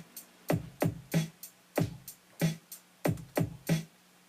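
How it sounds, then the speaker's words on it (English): Programmed kick drum and hi-hat pattern in Ableton, a punchy, close beat of evenly spaced hits in a steady groove, alone without talk. "we're going to focus on the kick and with the hi-hat now"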